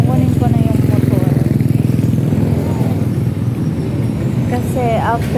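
A motorcycle idles nearby with a rapid, steady chugging throb, joined by voices talking toward the end.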